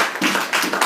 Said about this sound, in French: Est-ce que tu peux acclamer le Dieu Tout-Puissant?